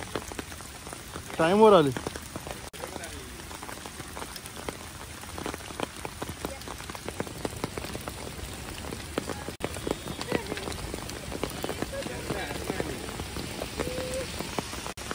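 Heavy rain pours down in a national park near the Kanheri caves in Borivali, a dense, continuous patter on surfaces heard while people talk nearby.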